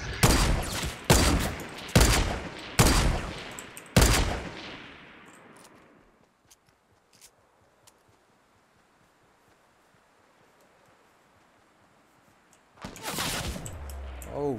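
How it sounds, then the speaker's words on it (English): Video game gunfire: five loud, sharp, evenly spaced shots in the first four seconds, each trailing off, then near quiet with faint ticks before a loud burst of noise returns at the end. "He got a sniper rifle. He took a chunk out of my ass."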